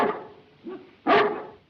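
In a 1935 film about sled dogs, a dog lets out a soft low woof and then one loud, sharp bark close by. Its sound cuts off cleanly in a quiet room, and nobody speaks.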